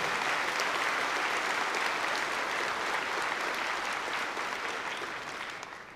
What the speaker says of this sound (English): so let's give them all a good round of applause